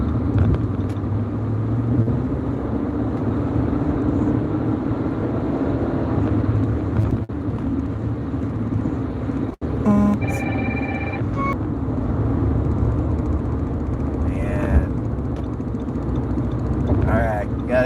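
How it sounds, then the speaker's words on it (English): Heavy road traffic heard from inside a moving vehicle, a steady engine and road rumble broken by a brief dropout, while a person talks over it. "Traffic's heavy and everyone wants to be fucking NASCAR drivers"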